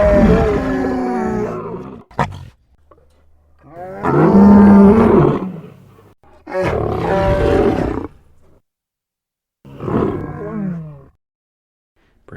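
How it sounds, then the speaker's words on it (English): A Chewbacca voice effect built from badger snarls and growls blended with lion and tiger roars sounds as four loud, guttural roaring bursts separated by short silences. "with the snarls or growls of a badger mixed with the lion and tiger at the end"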